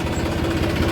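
A close double-clutch diesel tractor engine idles with a steady, rapid low thumping rhythm, running alone without voices.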